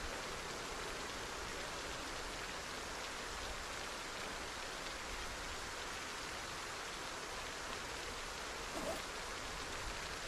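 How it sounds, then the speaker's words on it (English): Heavy rain in the Project Zomboid video game, a dense, steady hiss of falling water that stays loud and unbroken from start to finish with no voices. "My gosh, the rain is so loud."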